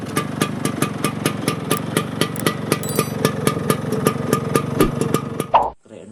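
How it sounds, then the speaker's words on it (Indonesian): Classic Vespa motor scooter engine running with a steady, fast mechanical putter of regular pulses, fairly close and unbroken for about five seconds before it cuts off abruptly. "Widih, lihat teman-teman, ada motor Vespa klasik."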